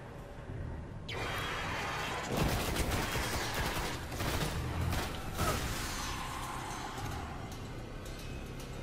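Rifle fire in the Destiny video game beta, a sustained volley of rapid shots starting after a quiet moment and continuing at steady loudness, layered with whooshes and clicky mechanical ticks.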